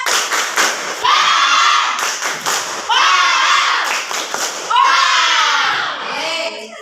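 Schoolchildren in an Indonesian classroom clap a rhythmic spirit clap together, with loud bursts of claps and thumps in a repeating pattern mixed with their shouted chanting voices.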